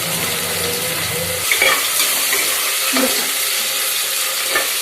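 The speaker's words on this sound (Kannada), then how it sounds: "ಸ್ವಲ್ಪ ಫ್ರೈ ಮಾಡ್ಕೊಳ್ಳಿ ಒಂದ್ 2 ನಿಮಿಷ" Green peas frying in ghee in a pan for a rice dish, with a steady soft sizzle and occasional stirring scrapes, a low hum in the first moments, no voices.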